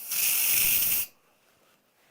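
Steam hisses loudly and steadily from an Instant Pot's release valve as it is lifted with a spoon while making vegan broccoli cheddar soup, then cuts off abruptly, leaving a quiet room.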